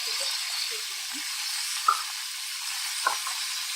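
Masala spices and onion sizzling steadily in a pot for mutton zafrani pulao, a continuous close hiss with a couple of brief clinks of a spoon stirring.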